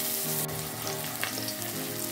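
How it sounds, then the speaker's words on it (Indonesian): Shallots and garlic sauté in a hot pan, a loud, dense, continuous sizzle heard up close with a few brief scrapes of stirring and no voices. "Bawang merah, bawang putihnya kita tumis sampai harum."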